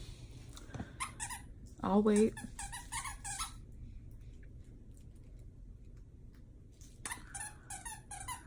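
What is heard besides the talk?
dog Dewey's squeaky toy squeaking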